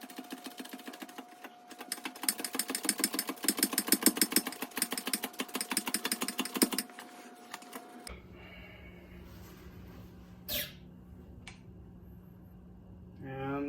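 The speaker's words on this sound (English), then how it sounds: "So we'll press this down and see how she goes." A wheel bearing is pressed into the hub of a Honda Civic time attack car: about five seconds of rapid, rhythmic, close clicking and ratcheting, then a quieter steady hum with one brief knock.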